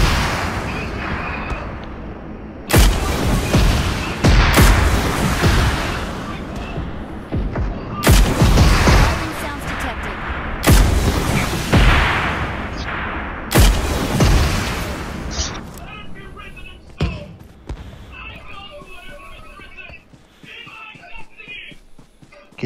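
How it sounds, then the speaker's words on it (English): Airstrike blasts and gunfire in a video game: several heavy, loud booms arrive in sequence, each with a long rumbling tail, followed by lighter crackling shots, while someone talks over the action. "You got a airstrike."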